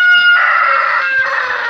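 Chickens in an outdoor coop on a rainy day, a close, loud run of clucking and crowing-like calls filling the whole moment, with no talking over them.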